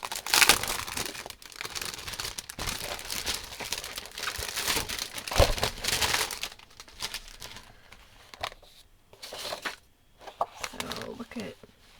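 Double-sided 12 by 12 patterned craft paper from the newly unboxed Paper Wishes Flit & Flutter collection is handled close up, with crisp crinkling and rustling sheets that fade after about six seconds, while a voice talks at times.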